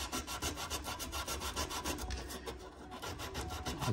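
Sandpaper rubs back and forth on a refrigerator pipe to clean it before soldering, during a fridge compressor motor replacement; steady, rhythmic rasping strokes close by, with no talking.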